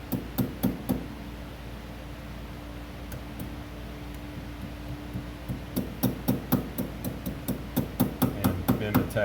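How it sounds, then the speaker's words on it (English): Ball peen hammer tapping down the metal clamp tabs of a new axle boot on a Polaris Ranger 500. Sharp, close metallic taps come in short bursts, then a sparse stretch, then a faster run of rapid strikes. "Take your ball peen hammer."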